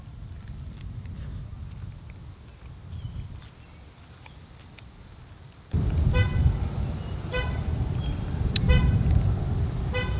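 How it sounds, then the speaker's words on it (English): A car horn beeps repeatedly in short honks amid outdoor street noise and passing traffic, fairly close and loud. "How many times are you gonna beep your car,"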